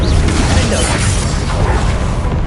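A Confringo blasting spell explodes in Hogwarts Legacy, a dense, loud, roaring burst of rumbling noise that fills the whole moment without letting up.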